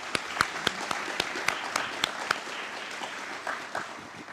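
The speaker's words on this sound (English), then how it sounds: "please join me in raising a round of applause" A crowd applauding at a formal evening event welcoming a Prime Minister to the podium, with sharp individual claps standing out over a steady wash of clapping that gradually thins.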